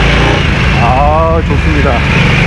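A Harley-Davidson Nightster motorcycle accelerating in second gear up a hill road, a loud, continuous low engine rumble mixed with heavy wind noise, with a rider talking over it.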